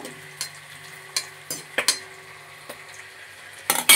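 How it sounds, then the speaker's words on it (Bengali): Whole garam masala and bay leaves stirred in oil and ghee in a pot while making pulao, a soft sizzle under sharp, irregular scrapes and clinks of a spoon against metal, with a louder clatter at the end. "এবার দেব গোটা গরম মশলা, কটা তেজপাতা দিয়ে একটুখানি নেড়ে নেব।"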